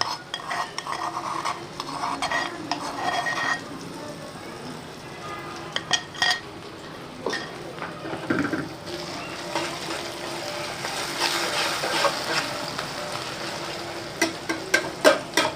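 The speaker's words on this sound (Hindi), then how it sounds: "अदरक और लहसुन वाले पेस्ट को ना अच्छी तरह फ्राई करना है" Ginger garlic paste fries in a pot for a dhaba-style dal mash, with a steady soft sizzle under repeated scraping and clinking of a metal spoon stirring against the pot, louder sharp taps near the end.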